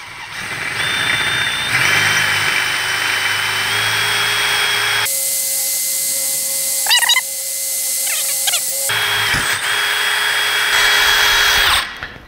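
A power drill with a 21/64-inch (about 9 mm) bit whirs steadily and loudly, with a few higher squeals and shifts in pitch as the bit bores a hole for a rim lock.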